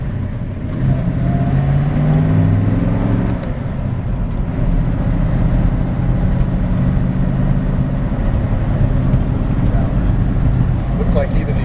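A 1957 Chevrolet 3100 truck engine idles steadily and close after starting, a low continuous rumble with a brief rise near the start.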